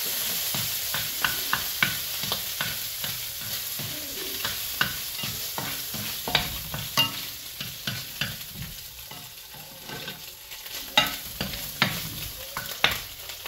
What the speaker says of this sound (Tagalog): Ilagay ko na yung spam or yung luncheon meat.